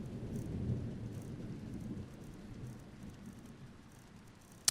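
Rain and distant thunder in the Skyrim video game, a faint steady patter with low rumbling early on and a brief click near the end.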